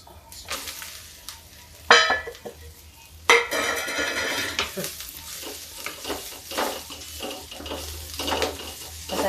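Okra with lemon stirred and frying in a pan: a steady sizzle runs throughout under repeated scraping and clinking of a spoon against the pan, with sharper bursts of stirring near the start.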